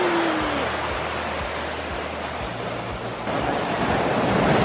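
Ocean waves on a Puerto Rico beach, with a steady broad wash of surf and heavy wind buffeting the microphone, fairly close and continuous.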